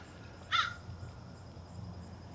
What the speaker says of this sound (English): Lots of crows.